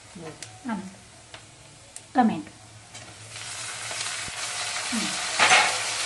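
Tomatoes fry in a pan and are stirred now and then. A low, steady sizzle builds gradually under a woman's speech, and occasional scrapes and clinks from the utensil come through.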